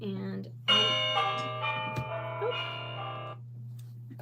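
A bell-like chiming alarm ringtone plays in a repeating pattern over a steady low hum, with a short spoken remark near the start.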